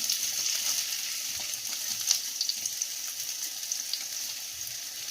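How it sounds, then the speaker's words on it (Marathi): Potatoes fry in a pan for sabudana khichadi, a steady close sizzle with faint crackles and the occasional scrape of stirring, no voices. "मस्त बटाटे भाजले गेलेत, तळले गेलेले आहेत."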